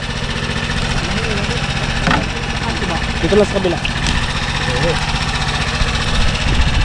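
A boat engine runs steadily close by, a continuous low throbbing drone with a few brief knocks, while several people talk and call out over it.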